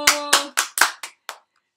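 Six sharp hand claps in a quick, slightly uneven run, close and bright, during a children's Yoruba lesson on the days of the week. The last clap comes after a short pause and is fainter.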